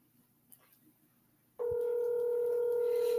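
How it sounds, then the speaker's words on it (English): A telephone call starts with quiet room noise, then a steady, loud, continuous dial tone sounds and holds unbroken to the end. "She better answer the phone."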